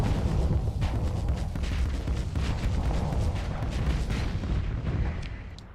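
A siege cannon in a video game fires amid a battle, heavy booming blasts and crackling bursts over a thick, constant rumble, loud and busy for several seconds before easing slightly.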